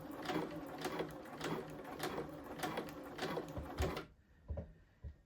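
A sewing machine runs in a quick, rhythmic stitching burst along a blazer lining up to the seam allowance, then stops, followed by a few soft handling knocks.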